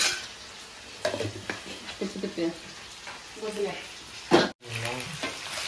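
Chicken pieces with curry leaves fry in a pan, a soft, steady sizzle running beneath a person talking, with occasional scrapes as the pieces are turned.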